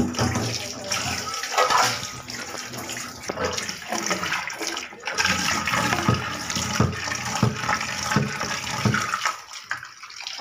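Dried Amudi fish is washed in water, with sloshing, splashing and running water close by as someone talks over much of it.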